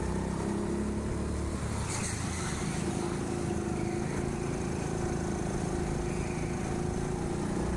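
Go-kart engine drones steadily and loudly at TeamSport Sheffield as the kart climbs a ramp on the indoor track, a continuous motor hum with no break.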